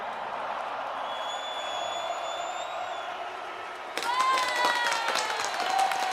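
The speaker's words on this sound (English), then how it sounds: "Love hearing the crowd chant along." A hockey arena crowd in Edmonton at Game 6 of the 2024 NHL playoffs between the Oilers and Canucks roars as a steady wash of noise, then swells louder with chanting voices over the final couple of seconds.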